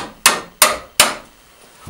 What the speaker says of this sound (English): Once it gets into the second one, you might want your hammer just to kind of tap it through.